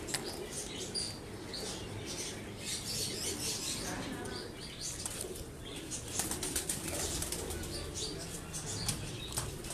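Pigeons on a rooftop loft flap their wings in repeated bursts, close and busy over a steady background hum, with a few faint coos mixed in.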